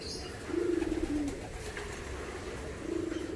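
Racing pigeons coo in a loft, two soft low burrs of cooing separated by a pause, close and clear over a quiet background hiss.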